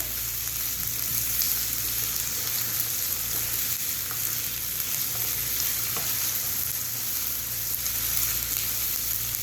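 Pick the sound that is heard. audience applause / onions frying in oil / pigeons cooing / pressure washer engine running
onions frying in oil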